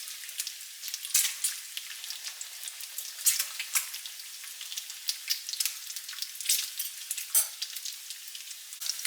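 Bacon sizzles and crackles in a cast iron frying pan, a steady bright hiss broken by frequent sharp pops and spits, close and alone with no talking.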